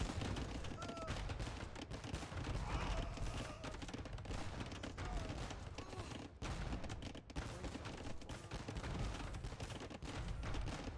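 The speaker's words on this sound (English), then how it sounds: "Bomber cannons are killing their organ guns, but there's 22 of them." Dense, rapid gunfire and cannon blasts from a strategy game battle with organ guns and bombard cannons, a continuous crackling barrage under faint commentary.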